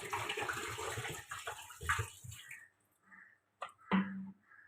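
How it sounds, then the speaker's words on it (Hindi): Water pours and splashes steadily into a cooking pot of mutton for a couple of seconds, then stops, followed by a few faint clinks and a short drip or knock. "इसमें मैं 1 किलो पानी डालूंगी।"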